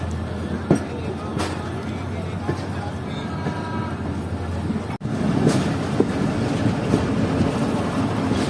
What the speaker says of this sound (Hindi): तो ट्रेन आ रही है नलसी के लोकोमोटिव के साथ